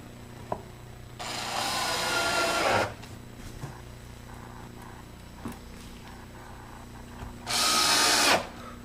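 A power drill drives screws into wooden dollhouse partition walls during assembly: two loud, sustained whirring bursts, the first about two seconds long and the second shorter near the end, with quiet pauses and a few small knocks between them.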